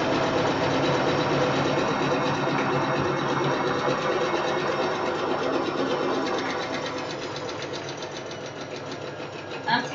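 A sewing machine runs steadily while stitching a zigzag seam on a fabric cushion cover, giving a loud, even, rapid mechanical whir for nearly ten seconds that eases slightly toward the end.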